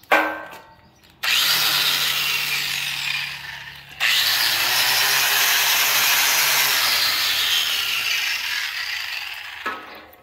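A repaired angle grinder runs at full speed with a loud, steady high whine. It cuts out briefly, spins back up, then shuts off near the end.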